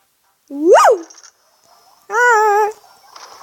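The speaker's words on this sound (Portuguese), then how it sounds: "Até assustei meu cachorro que tem aqui do lado." A startled dog gives two loud, close whining yelps, the first rising and falling sharply, the second a longer wavering whine, with faint background noise between them.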